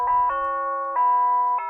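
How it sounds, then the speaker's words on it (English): An RC3250 wireless plug-in door chime rings through its 2¼-inch speaker, a clean electronic tone pattern stepping between notes in a few sustained chimes, close and clear with no talking. "The receiver features a 2¼ inch speaker which delivers a rich quality sound."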